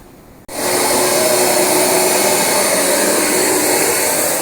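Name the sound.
vacuum cleaner vacuuming carpet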